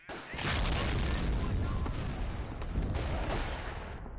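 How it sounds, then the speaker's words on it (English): Incoming mortar fire in the World War II strategy game Company of Heroes, a loud sustained barrage of booming blasts and crackling gunfire, with a voice speaking over the din. "Incoming mortar fire."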